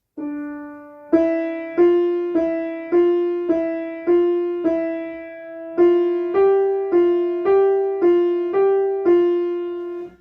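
Piano finger exercise: notes struck one at a time in a steady, even rhythm, each firm and ringing briefly before the next, close and clear with no talking.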